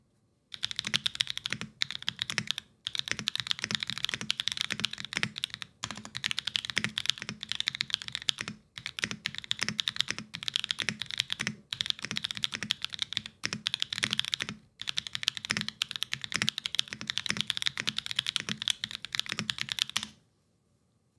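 Brisk, continuous typing on a Mode Envoy mechanical keyboard, close and crisp keystrokes in fast bursts separated by a few brief pauses, with no talking.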